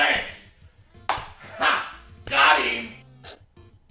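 Short yappy barks from Lesser Dog, a small white dog enemy in the video game Undertale, come in three or four quick separate bursts, fairly close and clear, over quiet game background sounds.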